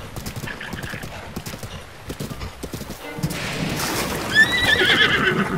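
A horse in The Legend of Zelda: Breath of the Wild clip-clops with steady hoofbeats, then lets out a loud whinnying neigh over rising ambient game sound.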